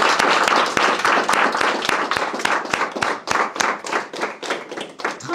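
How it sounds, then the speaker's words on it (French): A small studio audience claps to welcome a guest on a French aperitif talk show, with sharp, distinct hand claps in a quick, uneven rhythm that stays close and steady, then thins slightly toward the end. "Merci de l'applaudir."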